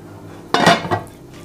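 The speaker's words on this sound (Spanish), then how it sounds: "Tapamos nuestra olla" A lid set down onto a slow cooker pot holding chicken thighs, making a single close clink of pot and lid with a short rattle as it settles, then quiet.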